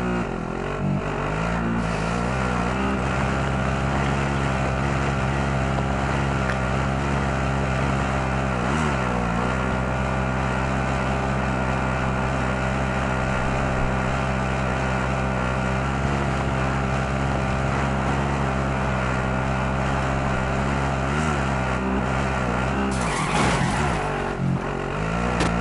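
A car driven in a video game, its engine droning steadily with shifting pitch as it revs and eases, loud and close throughout, with a brief dip and a sharper burst of noise near the end.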